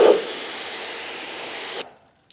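A pressure washer sprays a car, a loud, steady close hiss of pressurized water for nearly two seconds, then abruptly shutting off into quiet.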